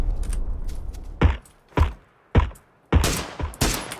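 Gunfire in the battle royale game PUBG Battlegrounds: several separate sharp shots, each ending in a short decaying tail, then a burst of quicker shots near the end, moderately loud with no talk.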